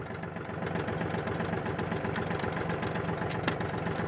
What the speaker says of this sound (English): I gotta get the tractor lined up here.